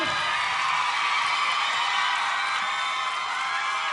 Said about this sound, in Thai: ขอเสียงปรบมือกับพี่กันด้วยครับผม